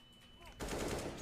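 Automatic AK rifle fire in the Counter-Strike 2 video game, a quick burst of rapid shots in the second half, fairly loud over a low game background hum.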